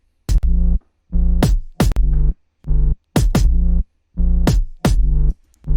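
Heavy sub bass notes pulsing in rhythm with punchy kick drum hits on top, loud and close with no voices.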